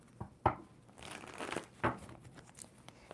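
A tarot card deck being shuffled, giving a few quick crinkling, papery riffles and snaps with short pauses between them, close and fairly quiet.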